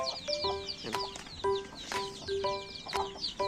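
Chickens clucking steadily alongside high, rapid peeping of chicks, close and continuous with no voices.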